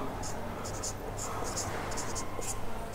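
A teacher writes on a classroom board, giving short repeated scratchy strokes in quick bursts under a steady background hiss, close and moderately loud.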